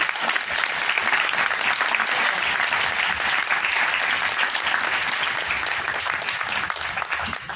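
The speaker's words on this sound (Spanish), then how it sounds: "les pido por favor un gran aplauso para la doctora Alejandra" A conference audience gives a doctor a big, sustained round of applause, dense continuous clapping from many hands that holds steady and tapers slightly at the very end.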